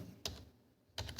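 Two short bursts of keystrokes on a computer keyboard, the second ending in a firm Enter press while running a Python print demo, close and fairly quiet with a soft pause between, no talking.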